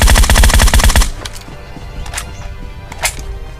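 Rapid automatic fire from a Groza rifle in a video game, a loud dense burst lasting about a second, followed by quieter distant shots and game sounds.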